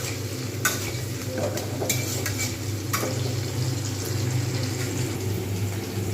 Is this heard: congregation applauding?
no